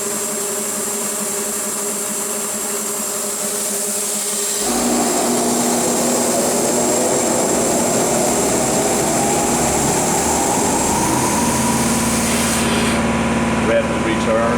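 Shop air compressor running beside an Engis SPM single-pass honing machine, a steady droning hum that steps up louder partway through and then holds, with machine whine layered over it.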